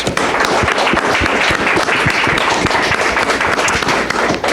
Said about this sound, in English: Join me, please, in a round of applause for all of our panelists.